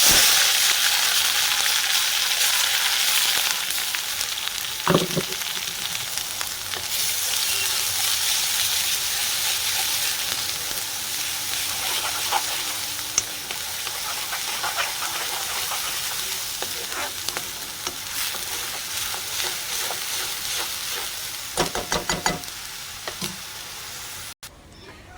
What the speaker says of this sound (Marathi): आता घालून घेते मी त्याच्यामध्ये वाटण।